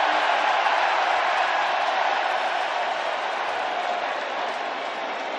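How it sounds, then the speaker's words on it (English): A large stadium crowd at a football game cheers in a loud, sustained roar that fades slightly toward the end, dense and continuous with no individual voices standing out. "And that is officially the largest cheer for somebody being reported as eligible."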